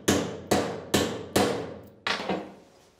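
A hammer taps metal figures onto a handmade spur in a craftsman's workshop, six sharp ringing strikes at an uneven pace, close and loud with brief decays between hits.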